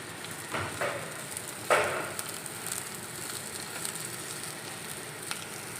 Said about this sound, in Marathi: आता कांदा गुलाबी झाल्यावर आपण त्याच्यामध्येच गोबी टाकायची आहे आणि पुन्हा चांगली परतवून घ्यायची